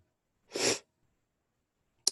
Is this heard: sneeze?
yes